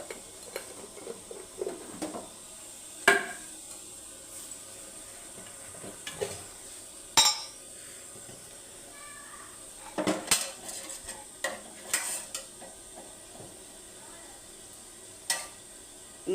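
Ghee, with some oil, sizzles softly in a pan for kichidi while a spoon stirs and clinks against the metal now and then, close by and fairly quiet.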